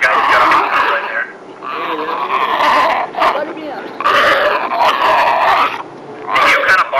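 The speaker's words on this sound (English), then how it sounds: "They do kind of bark a little bit" Sea lions give repeated hoarse, guttural barks and growls at close range, several long throaty calls with brief pauses between them.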